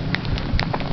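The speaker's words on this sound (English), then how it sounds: "It's raining right now." Rain falling during an icy spell, a steady close patter of drops hitting a surface, dense and even for the whole second.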